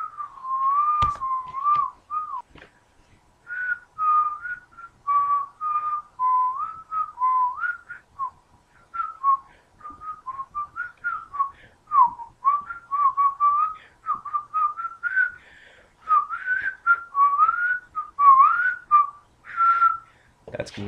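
A person whistles a movie theme tune alone, a continuous wavering melody with short breaths between phrases, fairly close and clear throughout.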